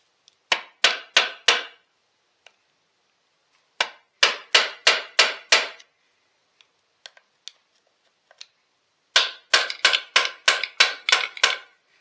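Sharp metallic taps on a stuck part of a Husqvarna 380-CD chainsaw during a rebuild, struck in quick bursts of four or five blows with pauses between, plus a few faint isolated clicks; close and loud, with no talking.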